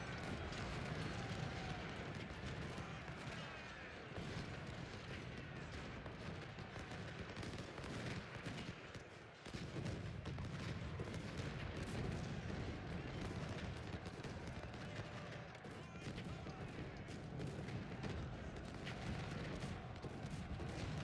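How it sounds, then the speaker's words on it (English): Cannon and rifle fire rumble through a Union battle at Chancellorsville in Ultimate General: Civil War, a continuous low roar of distant volleys and shots with a short lull midway. "Give me another volley cannons, please."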